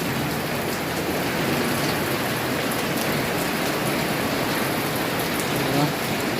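Heavy rain pours down steadily on a house with a leaking roof, making a dense, even wash of close, loud drumming and splashing that continues without a break.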